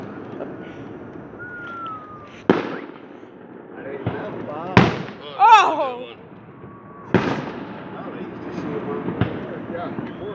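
Fireworks from a nearby display burst in sharp, gunshot-like bangs, about five separate cracks spaced a few seconds apart, moderately distant, while people talk and exclaim over a steady outdoor background.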